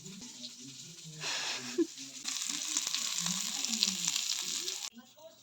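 Sardines coated in masala frying in a pan, a steady hiss of oil close by that swells louder midway, with faint low voices murmuring underneath before cutting off near the end.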